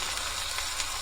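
Bright, steady hiss of food sizzling in a pan as it cooks, a continuous crackling wash with no break and no talk.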